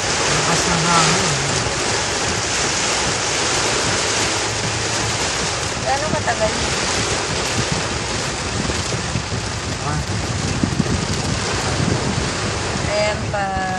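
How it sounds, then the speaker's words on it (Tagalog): Strong wind and heavy rain roar steadily in a Texas storm, a dense continuous wash with gusty swells throughout, while people talk and exclaim over it. "Grabe, lakas ng ulan."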